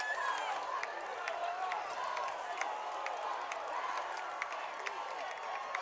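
A high school football crowd at an evening game rallies behind the home defense, a faint, steady wash of distant cheering with scattered claps and shouts.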